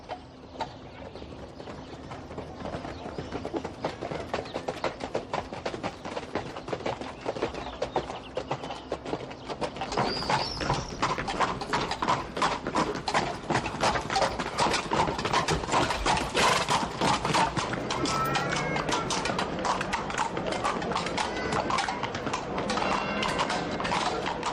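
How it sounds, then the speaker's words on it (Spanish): Horses ridden along a rural route between Trujillo and Cáceres clip-clop steadily, hooves striking in a brisk repeating rhythm that grows louder and busier midway, with faint creaks of tack and a few birds in the background. "visitarlas que montados a caballo"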